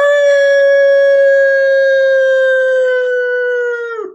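A voice imitates a dog singing as a baritone, one long sustained howling note held steady for about four seconds before dropping off abruptly.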